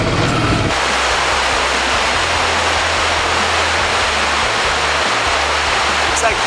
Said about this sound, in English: It's like 4 rivers are just coming into one.